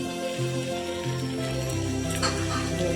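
Hot water hits a pan of fried paneer and sets off a steady, close sizzle that spits and crackles throughout, with no voices.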